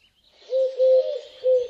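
A Eurasian collared dove gives a soft three-note coo, mellow and close, with a short gap before the final note.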